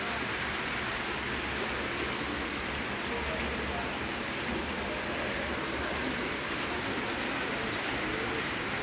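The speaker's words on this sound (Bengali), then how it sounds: "মাম্মা কবুতর।" Pigeon coos and calls come faintly and repeatedly, well apart from one another, over a steady wash of outdoor background noise.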